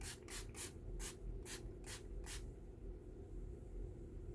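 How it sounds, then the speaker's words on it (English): An E.L.F. facial oil mist is pumped as a setting spray: about seven quick, hissy spritzes in an uneven rhythm, close to the microphone, then quiet room tone. "I wanted to try this as a setting spray, so let's try it real quick and just see what happens."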